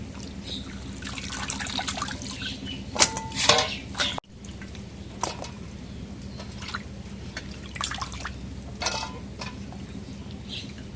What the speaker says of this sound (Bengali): শাকটা এখন ধুয়ে নিই